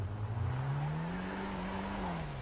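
A modded Volkswagen Passat accelerates in GTA 5, its engine note rising steadily in pitch and then levelling off; the drone is continuous and fairly close, with no talk over it.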